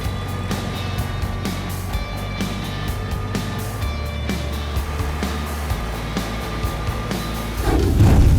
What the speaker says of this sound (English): Dixie Chopper, the world's fastest lawnmower